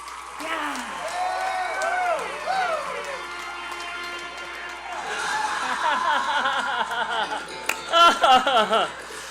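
Crowd noise swells in a packed room at a live honky-tonk music show, a lively murmur of many voices with bursts of laughter and cheers, with voices talking nearby over it.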